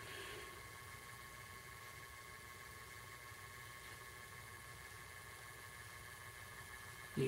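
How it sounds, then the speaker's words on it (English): A Bachmann Class 47 model locomotive with a 21-pin decoder runs at its slowest speed on a Hornby Select controller, its small motor giving a steady, faint whirring hum with a faint tick from the poles turning. "You can hear the motor turning on the poles"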